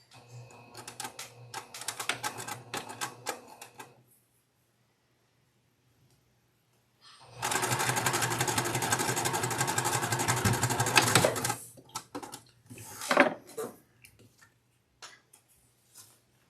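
A sewing machine stitches quilt block pieces in short bursts of rapid mechanical ticking, with one long continuous run in the middle and quiet pauses in between.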